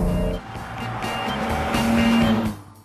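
An MGC GT Sebring closed roadster with a six-cylinder engine and Weber carburetor, revving loudly up close with a rising intake moan and a brief tire-like squeal before the sound falls away.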